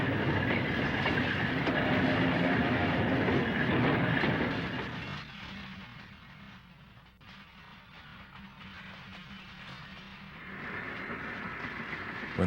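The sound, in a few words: freight train with locomotive passing Walnut Creek station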